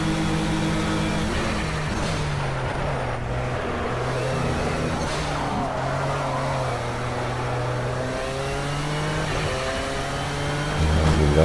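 LMP1-class endurance prototype race car engine in a racing video game, a continuous loud drone whose pitch climbs and drops through gear changes down a long straight, with no talking.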